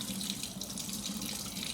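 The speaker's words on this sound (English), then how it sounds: "I'm gonna go ahead and drain both of them." Liquid from canned chickpeas drains into a kitchen sink, a steady, close, continuous watery rush with no pauses.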